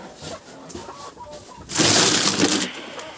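Chickens fed millet grain give soft clucks and coos close by, then a loud, broad rushing burst takes over from partway through and lasts to the end.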